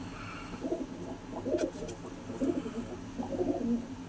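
Pigeons of a fancy breed coo close by in four soft, rounded bursts, evenly spaced, against a quiet background hum.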